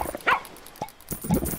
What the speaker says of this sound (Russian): Собаки есть.